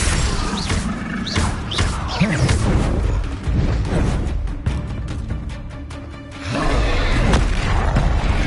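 Explosive spell blasts from Hogwarts Legacy during combat, several heavy booming impacts and crashes in quick succession, with whooshing spell effects and game music underneath, loud and close.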